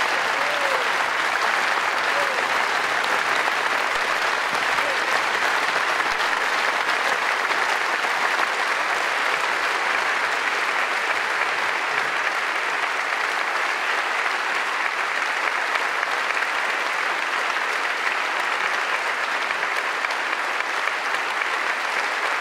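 A large audience at the Cirque d'Hiver in Paris applauding Father Raphaël, a dense, sustained ovation of clapping that stays steady and loud throughout.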